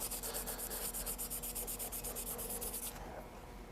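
Rust is scrubbed off a metal die with plastic mold cleaner, a fast, even back-and-forth rubbing rhythm up close that stops abruptly near the end.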